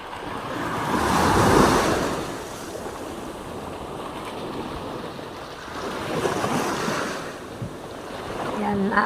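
Sea waves surge in and wash back over the shore in two broad swells, with a steady roar of surf and wind buffeting the microphone.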